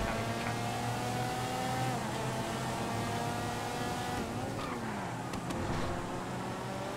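Fieldmaster Classic tractor engine in GTA V, a continuous droning motor with a steady low hum that shifts pitch midway as it changes speed, loud and unbroken for several seconds with no talking.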